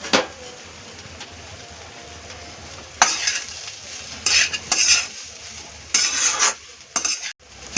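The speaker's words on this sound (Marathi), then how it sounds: "आणि हा भात टाकला की व्यवस्थित आपण हे सगळं परतून घ्यायचं, एकदम सगळं एकजीव करायचं व्यवस्थित" Street-style egg fried rice is stir-fried in a pan, with a low sizzle under repeated bursts of spatula scraping and clattering against the metal pan.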